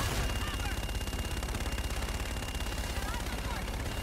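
Call of Duty Infinite Warfare aircraft gun run: a dense, continuous roar of rapid gunfire that holds unbroken at a fairly low level throughout.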